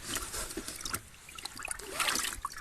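Water is scooped and poured for freshly caught crucian carp at a small pond, giving a faint, close trickle and splash in uneven bursts, with no talking.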